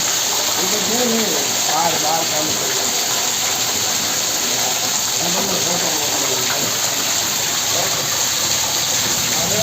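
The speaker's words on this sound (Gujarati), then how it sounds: "જોરદાર વરસાદ આવી ગયો, જોરદાર ઠંડક કરી ગયો" Heavy rain pours down in a loud, unbroken roar of rushing water, with voices talking faintly underneath.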